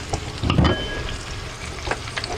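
Spinach, mushrooms and onions sauteing in melted butter in a preheated pan: a close, continuous sizzle with a brief louder burst early on and light clinks of a utensil, no talking.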